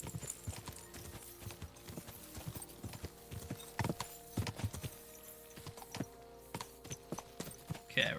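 Rhythmic clip-clop of a horse's hooves at a steady riding gait in a video game, fairly quiet and continuous, with no talking over it.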